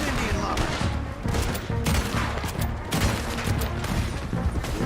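Gunfire from the volcanic pistol in Red Dead Redemption 2 during a shootout: repeated sharp shots in an uneven burst, loud and close, mixed with other gunfire and shouting voices.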